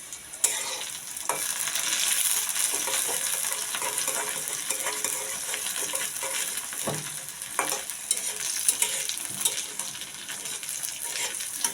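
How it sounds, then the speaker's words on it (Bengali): Garlic, dried chillies and chopped onion fry in mustard oil in a pan, a steady close sizzle with scattered stirring scrapes and clinks throughout, no voices. "আমার পেঁয়াজ আর মরিচ এগুলো কত সুন্দর করে ভাজা হয়ে গেছে সব"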